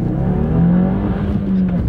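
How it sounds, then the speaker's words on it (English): A turbocharged 271-horsepower Subaru WRX pulls hard on a drag strip, its engine note loud and droning from inside the car. The pitch climbs steadily under acceleration with a rough low-end roar. "you'll see what 271 turbocharged horses we'll do in this WRX"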